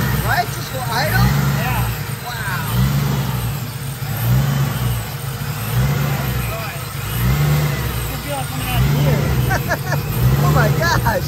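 Car engine idling with a newly installed Vortech supercharger, a steady loud idle with a rhythmic pulsing whoosh of air, with people talking over it.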